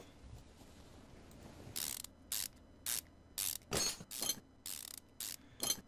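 Car suspension parts being unscrewed in Car Mechanic Simulator 2015: a series of short, bright ratcheting whirs from a power tool, eight or so bursts in an uneven rhythm over a quiet background hum.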